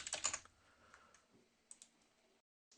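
A few quiet keystrokes clatter on a computer keyboard, a brief cluster of clicks at the start followed by scattered faint taps, close and soft with no talking.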